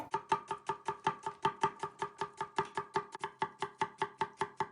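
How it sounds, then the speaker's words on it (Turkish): Rapid, steady knife chops through onions on a cutting board, around five strikes per second, close and crisp with no talking. "İşte soğanımızı doğrayarak başlıyoruz."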